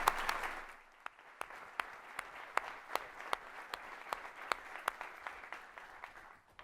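Audience applause welcoming a speaker on stage at the CONSTRUCT 2015 conference, a steady round of clapping from a crowd with sharp individual claps standing out, moderately loud and fading away at the end.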